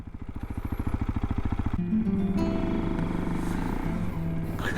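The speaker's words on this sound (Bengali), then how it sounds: "বিশেষ করে অ্যাডভেঞ্চার বাইক চালিয়ে যা মজা বলার নেই" An adventure motorcycle rides across beach sand, its mid-pitched engine pulsing in a quick steady rhythm, then revving higher and holding a louder, rougher tone, close and alone.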